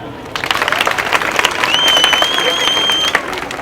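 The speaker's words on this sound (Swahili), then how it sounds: "Piga makofi." An audience at a church gathering breaks into loud, steady applause of many hands clapping together, sustained for a few seconds with some crowd noise mixed in.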